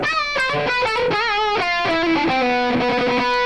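An electric guitar with a gritty, overdriven tone plays a short phrase of sustained notes and bends, alone and up close.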